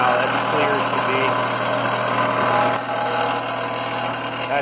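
Allis Chalmers 5015 tractor engine running steadily after starting, a close, continuous rattling idle with a low throbbing hum.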